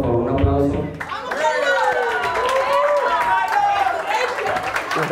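Audience applause and cheering for a guest invited onto the stage at a live show, a dense steady burst of clapping and crowd noise that holds for several seconds, with shouts and voices mixed in.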